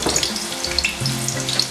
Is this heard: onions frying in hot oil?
yes